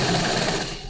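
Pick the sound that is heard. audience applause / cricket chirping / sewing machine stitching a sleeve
sewing machine stitching a sleeve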